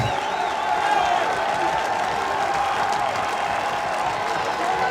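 Baseball stadium crowd at an Alabama State vs Tennessee game cheering and applauding steadily, a broad sustained roar of clapping and voices with a faint announcer-like voice mixed in.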